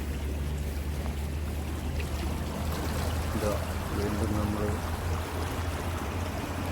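Water in a stream running beside paddy fields near Kuttiyankavu Bhagavathi Temple makes a steady, continuous rushing wash. A voice speaks briefly over it.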